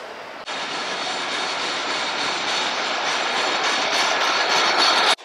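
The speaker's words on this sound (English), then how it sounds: "So I love the old vintage trams here" A vintage tram rolls past on a street in Sofia, a loud, steady broadband roar and rumble that starts abruptly and holds for about five seconds before cutting off.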